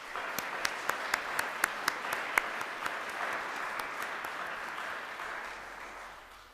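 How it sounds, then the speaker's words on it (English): Audience applause at a Martin Luther King Jr. Day of Service and Learning event at Seton Hill, a dense, steady wash of many hands clapping with a few sharp claps standing out early, holding loudly before easing slightly at the end. "Can we give them a round of applause, please?"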